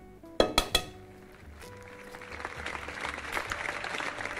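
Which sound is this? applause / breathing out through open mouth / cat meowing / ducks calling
applause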